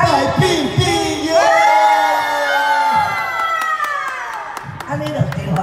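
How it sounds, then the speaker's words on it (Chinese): Crowd cheering, whooping and shouting at a Lunar New Year press event for a veteran-artist concert show in Taichung, loud and continuous across the whole stretch, with voices and musical tones mixed into the noise. "还有尖叫声哦"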